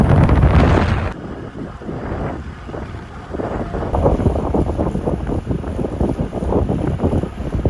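Strong wind buffets the microphone during a bicycle ride at an eco cycling event in Pattaya, a loud continuous roar that gusts and fades, with no talking.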